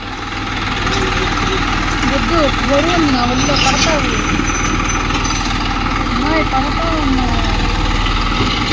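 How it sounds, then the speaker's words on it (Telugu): A tractor engine runs steadily at a loud, constant rumble for several seconds while it lifts soil, with voices talking faintly over it. "ట్రాక్టర్ అయితే మట్టి లేపుతున్నారండి"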